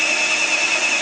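A Bosch GSR 10.8V cordless drill bores a 16mm flat wood bit into wood, giving a steady, close, high-pitched whine with a constant tone for about a second, no voices.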